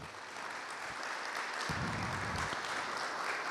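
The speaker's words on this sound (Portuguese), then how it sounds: "Vamos dar grande salva de palmas para a realização do seminário." A congregation at a church seminar applauds with a dense, continuous clapping that holds steady throughout and has no voices over it.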